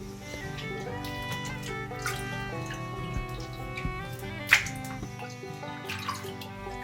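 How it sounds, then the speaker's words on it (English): Homemade butter is rinsed under running water at a kitchen sink: a steady stream splashes continuously at moderate volume, with small clinks and splashes and no speech. "taking it over to the sink where you can really rinse out all of that buttermilk"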